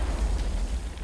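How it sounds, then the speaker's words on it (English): Artillery explodes in the Insurgency Sandstorm video game, a heavy, deep rumbling boom that sustains loudly through the short moment. "Oh, artillery."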